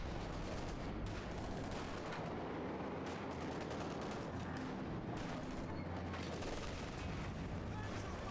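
Tank guns and other gunfire crackle through a WWII strategy game battle with SU-85, SU-100 and Valentine tanks, a dense, loud barrage of shots and blasts layered over one another with no pauses.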